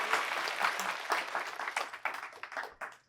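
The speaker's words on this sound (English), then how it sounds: "Let's give her another round of applause" A live audience applauds at an evening entertainment show in Kelowna, with dense, steady clapping that fills the full three seconds at moderate loudness and no one talking over it.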